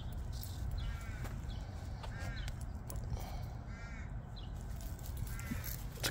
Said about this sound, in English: It's a crow, boy.